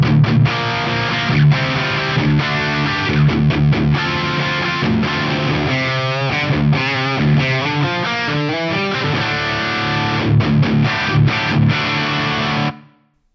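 A heavily distorted electric guitar through a Fractal FM9 amp modeler with cabinet impulse and medium room reverb plays chunky rhythmic riffs with sustained chords and palm-muted chugs, then stops, leaving silence.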